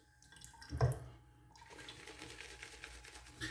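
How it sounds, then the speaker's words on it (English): Water splashes briefly into a bowl of tallow shaving soap lather, followed by soft wet swishing and faint trickling, close by and fairly quiet. "I'm going to add a little bit of water to this."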